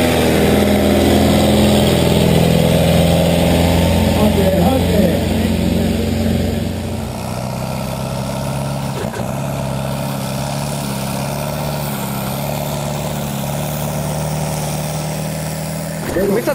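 A tractor engine labours loudly and steadily up a hill in an uphill tractor pulling race in a small Finnish village, a close, sustained low drone that eases slightly partway through.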